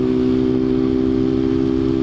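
A delivery motorbike engine hums steadily at a constant idle-to-cruising pitch, loud and close throughout the whole stretch, with no speech.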